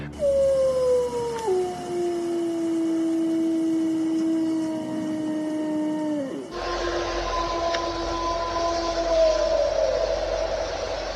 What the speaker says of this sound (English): the wolf howl is very distinctive